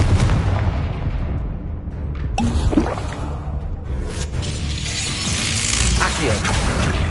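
Confringo fire spell bursting in Hogwarts Legacy, a loud crackling blast with shattering debris amid ongoing combat rumble, followed by a sustained fiery roar; a voice speaks briefly over the noise.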